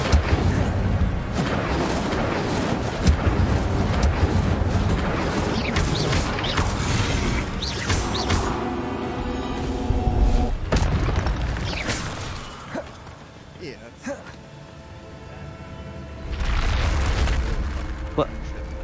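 Fire spell cast in a Harry Potter video game, a long roaring blaze of rumbling booms and crackling bursts that rises, fades, then flares again near the end, with game voices talking over parts of it.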